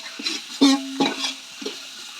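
Onion frying in a pot over a wood-fired stove, with short scraping stirs and clinks of a utensil against the pot over a quiet sizzle, in three or four brief bursts.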